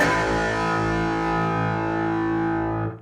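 A loud, distorted electric guitar power chord of root and fifth rings out thick and sustained for about three seconds before cutting off.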